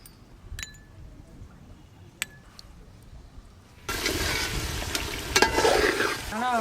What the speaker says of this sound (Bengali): এদিকে কড়াতে দেখো চিকেন চাপ ভাজা হচ্ছে